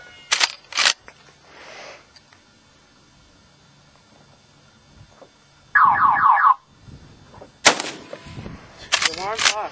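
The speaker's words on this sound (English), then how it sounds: "The alarm's off." A car alarm lets out a short, loud, warbling burst lasting under a second, set between sharp gunshot cracks at an outdoor shooting outing.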